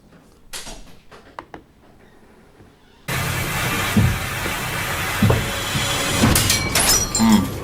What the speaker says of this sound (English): The mirror on the wardrobe burst outward, sharp shards of glass flying towards Alex, barely missing him